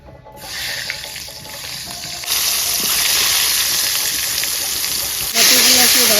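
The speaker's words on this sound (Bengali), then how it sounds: "এখন টমেটোগুলোও ভাজিয়ে নিব।" Tomatoes go into hot oil in a pan just used for frying eggs, setting off a hiss that jumps into a loud, steady sizzle and then surges louder again near the end.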